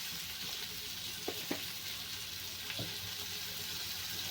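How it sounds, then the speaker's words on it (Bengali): Dried red chillies and turmeric fry in hot oil in a pan, a continuous steady sizzle with a few soft knocks from stirring. "ভালো করে নেড়ে চেড়ে ভেজে নিতে হবে"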